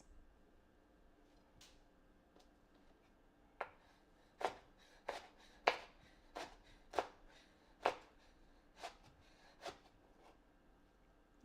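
A knife slices food into thin slices on a cutting board, about a dozen sharp, distinct taps at an uneven rhythm, close and fairly quiet against a hushed room.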